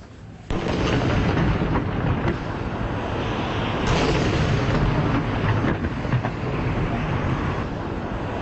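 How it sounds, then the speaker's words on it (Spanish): A 21-gun cannon salute fires from Morro Castle overlooking Havana bay, heard as a loud, continuous roar of booms and rumble that starts abruptly and carries on throughout, with no clear gaps between shots. "Desde el morro al fondo, se disparó la salva de 21 cañonazos."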